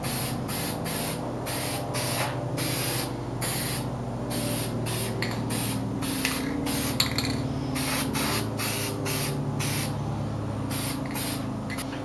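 Rust-Oleum lacquer hisses steadily from a spray can onto a wooden kitchen welcome sign, with a continuous close spray broken by quick regular pulses over about twelve seconds.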